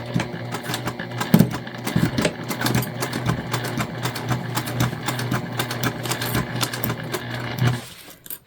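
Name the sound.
sewing machine stitching gift bag corners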